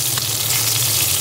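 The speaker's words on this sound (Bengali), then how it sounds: "এইভাবে ভাজবেন তাহলে এই দেখেন সুন্দর বেগুন ভাজা হচ্ছে" Eggplant slices fry in hot oil with a close, steady sizzle and crackle that holds evenly throughout, with no voices.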